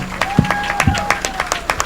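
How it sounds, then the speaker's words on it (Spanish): A church congregation claps in a quick, fairly regular rhythm, crisp, repeated hand claps under a steady tone and a voice speaking. "si ese aplauso fuera para mí"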